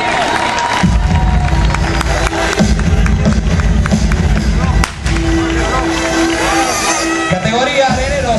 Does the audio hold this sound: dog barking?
no